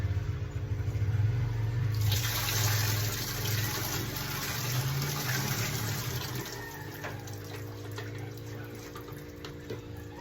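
Water is poured into coconut milk in a bowl for homemade ice cream, a steady splashing gush that starts suddenly and runs for several seconds before slowly easing off.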